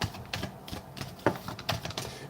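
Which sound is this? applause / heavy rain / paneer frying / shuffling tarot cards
shuffling tarot cards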